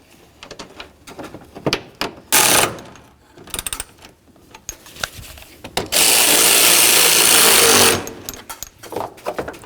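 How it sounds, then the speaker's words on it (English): A power tool snugs radiator bolts on a 2007-or-later Toyota Tundra. There is one short whirring burst, then a longer steady two-second run, close and loud, between quieter clicks and handling noises. "start in both of your bolts, and then snug them up"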